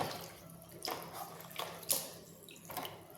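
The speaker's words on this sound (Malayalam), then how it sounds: "ഒരു ഗ്രാം സാഫ് വെള്ളത്തിൽ ഇട്ട് ശരിക്കും അതൊന്ന് മിക്സാക്കി" Saaf fungicide powder is mixed into water, with a few soft, close splashes and swishes spaced over a few seconds against a quiet background and no talking.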